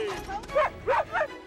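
Sled dogs on a film set for an Antarctic-style scene give three sharp, close yips and barks in a quick uneven rhythm, with crew voices talking underneath.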